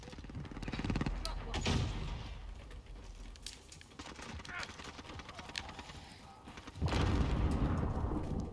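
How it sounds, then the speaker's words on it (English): Heavy explosions and gunfire in Call of Duty: Modern Warfare played on an Xbox One X, with loud booming bursts near the start and a big blast toward the end, under bursts of excited talk. "That's a lot of explosions."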